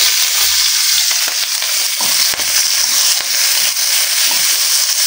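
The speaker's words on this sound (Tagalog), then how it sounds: "So, igigisa ko na dito yung sibuyas." Onions sautéing in hot frying oil left from cooking milkfish, a loud, steady close-up sizzle with occasional stirring scrapes.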